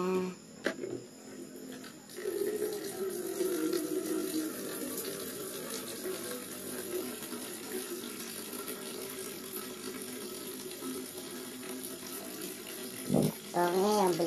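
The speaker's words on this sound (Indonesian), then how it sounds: "Oke, tambahin lagi airnya." Water pours steadily onto a salak palm in a garden, a continuous splashing gush that runs for many seconds at close range, with a brief clatter near the end.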